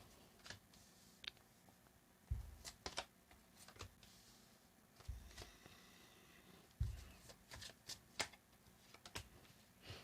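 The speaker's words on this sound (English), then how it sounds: "Another shuffle." Tarot cards are shuffled in soft bursts of riffling and flicking, with quiet, scattered taps and rustles spread across about ten seconds, faint and close with no speech.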